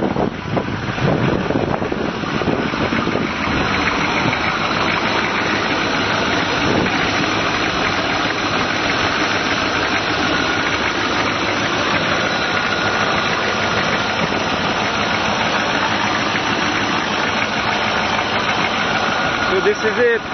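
A Chevrolet Suburban diesel engine with a 19.5:1 compression ratio, running on vegetable oil, idles steadily after a cold start: a loud, continuous, rough clatter with heavy wind buffeting the microphone throughout.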